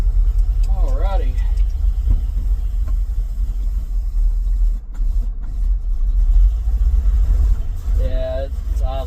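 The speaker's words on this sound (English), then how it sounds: "Yeah, it's idling a bit rough." Ford F350 dump truck with a three-on-the-tree column shift, its engine idling rough as a steady low rumble close by throughout, with voices speaking briefly over it near the start and end.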